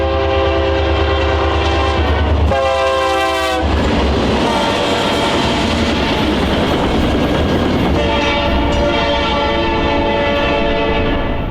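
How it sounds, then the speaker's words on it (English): A Utah freight train led by a single SD40N locomotive running long hood forward rumbles past up close with loud clattering wheels, its horn blaring in long blasts at the start and again near the end. "the local train sped by our cameras with a solo SD40N running long hood forward"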